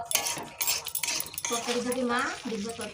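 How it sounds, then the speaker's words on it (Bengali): Vegetable curry is stirred and sautéed in a pot, with a metal spoon clinking and scraping against the pot rim up close, while people talk briefly in the background. "এখন তরকারিটা লাস্ট টাচ চলছে কষানো হচ্ছে"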